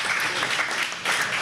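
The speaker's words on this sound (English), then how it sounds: "Give yourself a round of applause." Audience applause at the 2025 Hot N' Humid Brew-Off awards ceremony, a dense, steady patter of many hands filling a short burst with a slight dip near the end.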